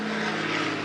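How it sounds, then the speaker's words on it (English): A propeller airplane passes overhead as a steady, loud, droning engine roar with a strong low hum. It fills the whole short moment on its own. "just wait for the airplane to go over as usual"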